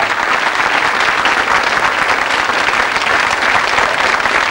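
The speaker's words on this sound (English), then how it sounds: "Give them a round of applause." Studio audience on a 1985 British TV game show applauds loudly and steadily, a dense, sustained wash of clapping that holds at full strength from start to finish.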